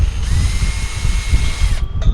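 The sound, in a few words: power drill drilling a hole in a pipe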